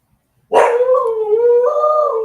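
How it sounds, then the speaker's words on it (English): A dog lets out a sustained, loud howl close by with a wavering pitch that breaks upward near the end, after a brief silence and with no talking over it. "Let's just let the dog out."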